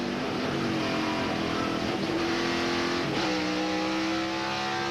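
Onboard a NASCAR race car, the engine drones loud and steady as it accelerates through the gears, pitch climbing and dropping at each upshift, with no talk over it.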